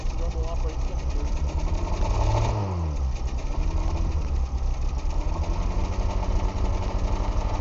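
A 1991 Dodge Dynasty engine idles roughly with a stutter, a loud, close, steady rumble with uneven pulses, and someone talks over it.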